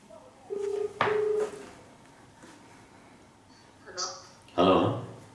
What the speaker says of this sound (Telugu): అది ఇందాక అనిల్ సార్ అనుకుని మేడంకి కాల్ చేసిన సార్.